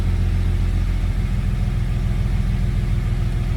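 A Jeep engine idles steadily after repair, a continuous low rumble with even pulsing, close and alone without talk.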